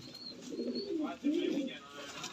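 Pigeons coo in a breeder setup, two drawn-out warbling coos up close, one after the other, with faint background noise.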